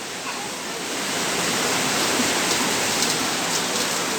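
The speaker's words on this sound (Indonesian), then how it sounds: "Mandi hujannya di sana" Heavy rain pours down outdoors in a dense, steady hiss that swells slightly after the first second and stays loud and unbroken throughout.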